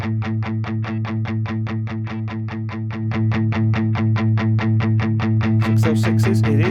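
Electric guitar through a Bogren Digital MLC Subzero 100 amp set to an 80s rock tone, playing a steady run of evenly chugged, distorted palm-muted notes, loud and alone, with a few brighter ringing accents near the end.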